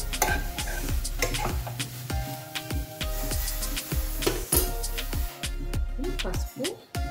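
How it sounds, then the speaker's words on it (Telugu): Dried shrimp fry in a pan, a close, loud, continuous sizzle broken by repeated scraping and clacks of a spatula stirring against the metal. "ఇంకా ఫ్రై అవుతుందండి"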